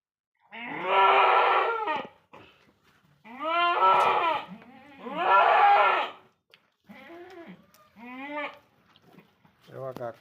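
Goats on a farm where a breeding buck and a doe after kidding are kept give several loud, harmonic bleats in bursts, close by, with people talking in between.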